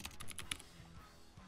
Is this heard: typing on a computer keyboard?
yes